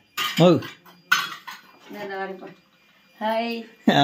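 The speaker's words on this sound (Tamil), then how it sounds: "நம்ம வீடு அம்மா சமையல் பண்ணிக்கிருக்காங்க" Dishes and cutlery clink in a home kitchen while a mother cooks. A few sharp, scattered clinks fall between stretches of close conversation.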